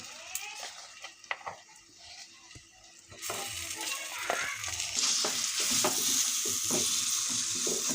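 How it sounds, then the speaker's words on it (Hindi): Green pea paste stuffing for matar puri is fried and stirred in a pan, first with a few spoon scrapes and knocks, then a steady loud sizzle that continues to the end. "अब मैं मटर की पेस्ट डाल करके इसे अच्छी तरह से भून लेती हूँ।"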